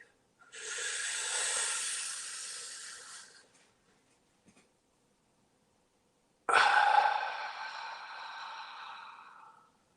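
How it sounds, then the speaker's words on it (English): Two long, deep breaths, close to the microphone: a slow airy inhale lasting a few seconds, a silent pause, then a sharp start to a gradually fading exhale. "Nice deep breath with me if you'd like."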